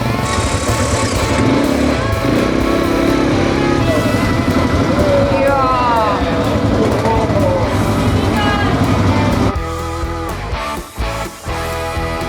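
Quad bike engine droning loud and continuous while riding, with shifting revs and a drop in power near the end, and voices talking over it.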